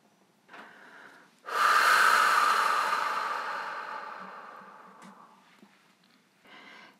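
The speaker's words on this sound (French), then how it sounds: "Lorsque vous êtes prêt, vous expirez." A long, slow exhalation during a sophrology relaxation breathing exercise: a soft breathy rush swells quickly, then fades gradually over several seconds, with a fainter breath before and after it. No voice is heard over it.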